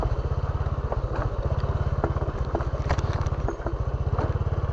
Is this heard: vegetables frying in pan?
no